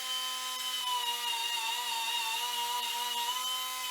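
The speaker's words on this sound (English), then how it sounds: "So the smaller, more aggressive wire wheel did the trick." A wire wheel grinds steadily against the rusted frame of a 1978 Honda CB750 K8, giving a continuous high-pitched whine with a scraping edge. It runs close and loud for about four seconds, then cuts off.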